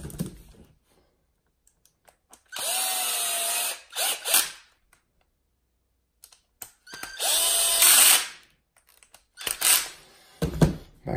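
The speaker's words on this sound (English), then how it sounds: "have power tools." A handheld power tool whirs in several separate bursts of a few seconds each during differential work on a Losi 8ight-T RC truck, loud and close, with small clicks and handling noises between runs.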